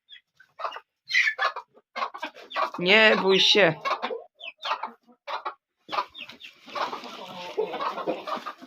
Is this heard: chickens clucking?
yes